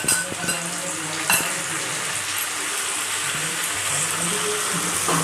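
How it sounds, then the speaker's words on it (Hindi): Ground spice paste sizzles in hot oil in a pan while cooking Bengali chicken kosha, a steady close crackle and hiss broken by a few sharp clinks and scrapes of a stirring spoon. "अब हम मसाले को अच्छे से भूनेंगे जब तक हमारे मसाले से ऑयल ना छोड़ दे"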